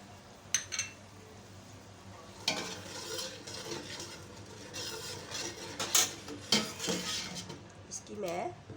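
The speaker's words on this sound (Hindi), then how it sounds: "अब इसके साथ ही हम ये पेस्ट भी डाल देंगे ताकि मसाले की भुनाई हो जाए।" Spice paste stir-fried in oil in a pan for chicken and bottle gourd salan, with continuous scraping and clinking of a spoon against the pan over a low sizzle, close and moderately loud.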